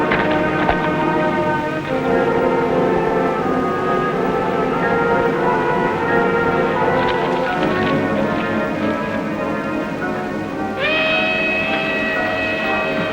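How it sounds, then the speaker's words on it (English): A westbound passenger train, the Sunset Limited, rumbles steadily past a depot, with dense low mechanical roar and layered tonal whines throughout, and a sharper high-pitched squeal rising near the end. "That's a westbound train."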